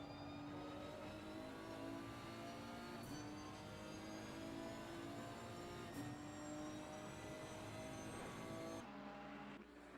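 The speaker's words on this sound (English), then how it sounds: "Can hear that engine firing all the way up. Can hear those turbos spooling like angry moths." A Nissan GT-R Nismo GT3 race car in Assetto Corsa Competizione at Misano, its engine droning with a steady high-pitched whine of spooling turbos, held level for several seconds before cutting off abruptly near the end.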